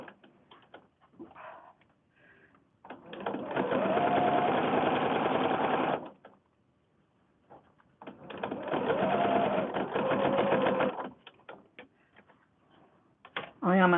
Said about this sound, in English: My needle's going in the down position and just going to stitch all the way around.